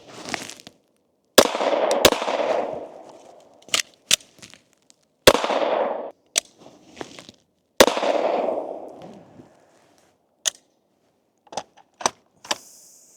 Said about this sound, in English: let's get into shooting this, see how it feels compared to the others